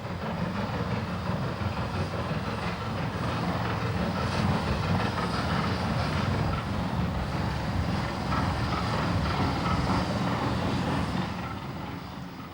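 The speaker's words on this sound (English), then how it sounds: "Let's jump a ride on 3F number 47327 across the reservoir." Midland Railway 3F steam locomotive 47327 crossing the causeway over Butterley Reservoir, heard from on board as a steady rumbling roll of the wheels on the track with faint rhythmic clatter, fading slightly at the end.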